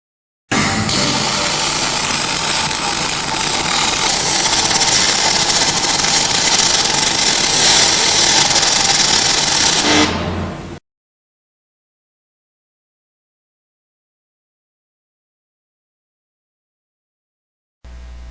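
MIG welding of aluminium plates through a hole where two sheets meet gives a steady, loud, close buzzing hiss for about ten seconds, then cuts off abruptly to silence.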